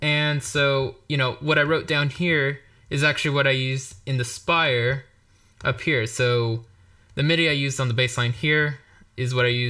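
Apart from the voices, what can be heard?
No everyday noises stand out.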